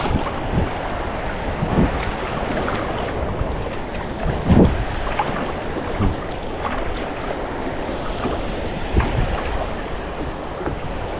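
Sea waves slosh and splash around a coastal fishing boat on open water, a steady rushing wash mixed with strong wind buffeting the microphone and occasional louder slaps against the hull.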